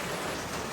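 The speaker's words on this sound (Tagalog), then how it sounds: "At umuulan pa rin." Heavy rain pours down in a continuous broadband wash, steady and fairly loud with no voices.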